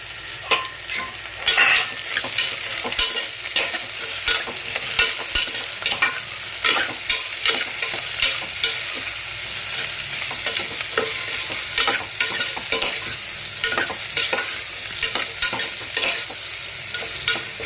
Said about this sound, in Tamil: கேரட்டு, பீன்ஸு, உருளைக்கிழங்கு, அவரைக்காய் இது எல்லாமே வந்து இந்த வெங்காயத்தோடு போட்டு நம்ம நல்லா வந்து வதக்கிக்கலாம்